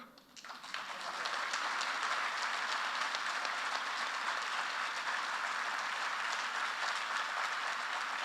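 An audience at a talk honouring Sindhutai Sapkal breaks into dense, sustained applause that swells within the first second and holds steady and loud to the end, with no voices over it.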